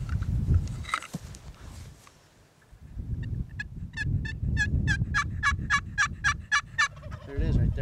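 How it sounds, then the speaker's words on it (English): A turkey gobbles in a fast rattling burst of repeated notes, moderately near, following a few soft outdoor rustles and thumps. "A turkey just gobbled over there."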